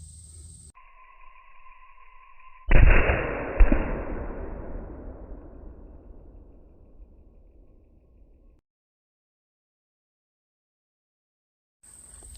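A 6.5 Creedmoor rifle fires a 118-grain cavity-back bullet into a ballistic gel block at 100 yards: a sharp, loud blast followed by a second crack and a long decaying rumble, with electronic beeps before and after.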